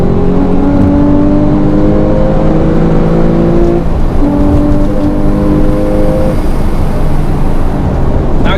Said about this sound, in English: when you put it in sports mode it opens up a valve and you get some more of that intake noise within the cabin